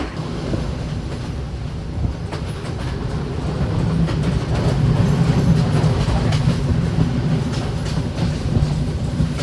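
A passenger train in Sri Lanka rumbles steadily along the tracks with a continuous low roar and faint rhythmic clatter, growing slightly louder midway, heard from inside with no voices.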